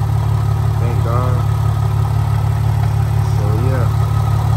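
A Mercedes E320 engine idles steadily after being restarted, a close, even low-pitched hum with a constant rhythmic pulse, while someone talks briefly over it.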